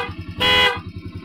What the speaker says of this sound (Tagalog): Yung taas, normal na busina